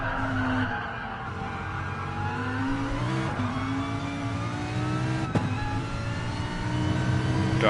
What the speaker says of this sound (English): driving in his Repsol Lamborghini